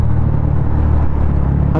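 A motorcycle engine fitted with a Yoshimura 420mm exhaust idles with a deep, steady, close-up rumble and a low droning tone throughout.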